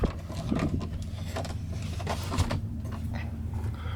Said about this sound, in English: roll the window up